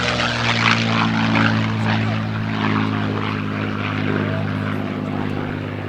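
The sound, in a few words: P-51D Mustang propeller aircraft flying over at airshow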